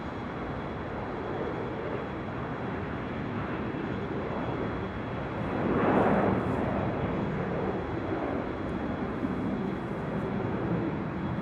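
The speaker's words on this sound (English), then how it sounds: "This is All Nippon Airways in the ANA Future Promises livery flight 125 to 787-9 Dreamliner" An All Nippon Airways Boeing 787-9 Dreamliner in Future Promises livery rolls for departure on runway 24 left at LAX, a broad steady jet roar at moderate distance that swells briefly midway, with no talking.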